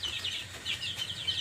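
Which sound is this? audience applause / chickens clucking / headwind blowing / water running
chickens clucking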